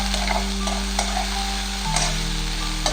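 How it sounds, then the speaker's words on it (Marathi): Shredded cabbage stir-fried in a pan with onion already browned, a steady close sizzle with soft stirring scrapes and light taps of a spatula, no talk. "आपण त्यामध्ये कोबी टाकून घेऊया आणि कोबी थोडासा परतून घेऊया."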